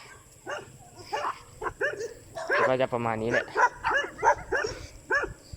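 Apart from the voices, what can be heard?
dogs barking along the road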